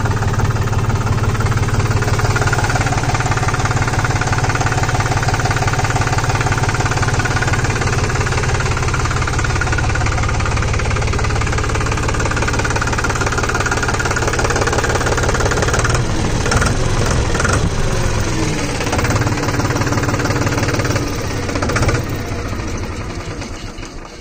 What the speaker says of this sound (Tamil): இன்ஜின் ஒர்க் நீட்டாக இருக்குது, எந்த பிரச்சனையும் இல்லைங்க.